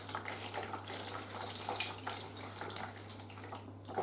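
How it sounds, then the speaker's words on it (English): Wet fabric being wrung out over a simple bowl of water after soaking in machine dye, a steady close splashing and trickling of water with no talk. "And just wring it out."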